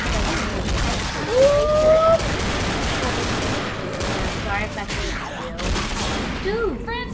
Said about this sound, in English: Dude, Francis, can you shoot?